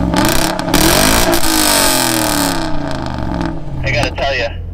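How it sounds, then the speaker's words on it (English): A Jaguar XK8 with a 4-liter V8 and modified exhaust revs loudly up close, its note sweeping up and falling back in repeated throttle blips, with a voice speaking over the engine. "Let me see what this Jaguar sounds like."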